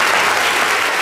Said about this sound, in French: on peut applaudir pour les gens de Cocody